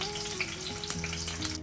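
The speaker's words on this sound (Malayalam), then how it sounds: "കടുകൊക്കെ പൊട്ടിയിട്ടുണ്ട്" Mustard and fenugreek seeds pop and crackle in hot oil, a close, continuous sizzle broken by sharp little bursts of spluttering.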